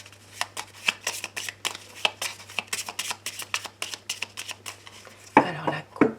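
Tarot cards are shuffled by hand in quick, rhythmic riffling bursts, close and crisp, roughly two per second. A soft rustling cut of the deck follows near the end.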